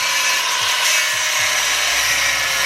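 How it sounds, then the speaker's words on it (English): A power tool cuts off a broken U-joint on a vehicle drivetrain, a loud, close, continuous high-pitched grinding whine with a few faint low thumps underneath. "U-joint broke, so we're gonna cut it off."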